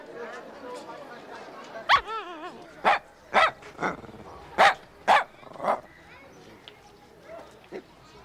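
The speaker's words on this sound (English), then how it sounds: "Isn't this, what do you call it? Lhasa Apso?" A Lhasa Apso dog barking, a series of about eight loud, sharp barks spaced roughly half a second to a second apart, with people speaking in the background.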